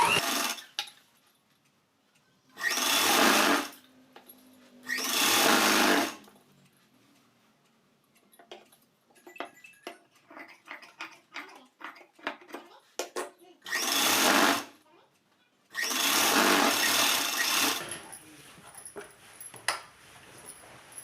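A domestic sewing machine runs in several loud bursts while stitching the seam of a circular palazzo pant, with quieter fabric handling and faint clicks between runs.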